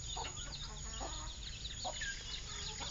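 A chicken with reversed, upturned feathers clucks in short, repeated bursts close by, over a constant background hiss.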